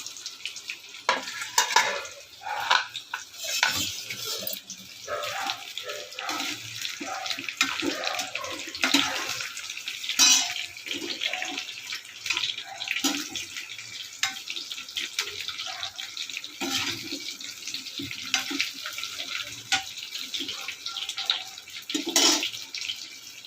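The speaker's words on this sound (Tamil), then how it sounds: "எண்ணெய் காஞ்சிச்சு. இப்போ வாழைக்காவை நம்ம போடுறோம்." Raw plantain pieces sizzle and crackle in hot oil for a Tamil plantain fry, a steady bubbling hiss broken by frequent sharp pops and occasional stirring clatter, close and fairly loud with no talk.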